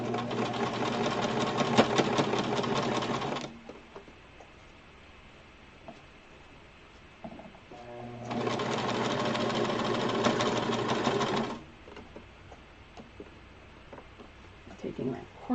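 A sewing machine stitches a fabric face mask in two long, steady bursts of whirring, separated by a quieter pause with small handling sounds.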